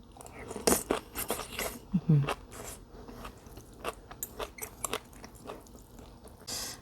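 Crunchy bites and chewing of Thai rice noodles with fried mackerel, sharp close-up crunches scattered irregularly, with someone talking softly in between.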